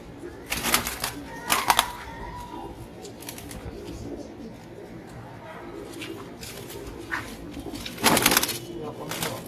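Silver Bezi pigeons coo in soft, low bursts, clearest near the start and again toward the end. Wing flutters and other bird sounds come and go across the clip.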